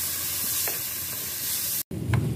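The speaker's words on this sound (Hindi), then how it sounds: "वैसे भी 1 मिनट के लिए फ्राई कर लेंगे हम।" Tomatoes fry in a pan with a soft, steady sizzle and a few light stirring scrapes. A very brief dropout is followed by a louder burst of frying.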